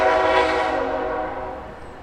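A train rolling through Camdenton at Lake of the Ozarks, its horn blaring loud and close at first, then holding steady as the rumble of the cars carries on for two seconds with no voices.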